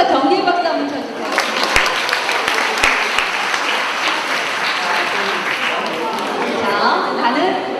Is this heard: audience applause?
yes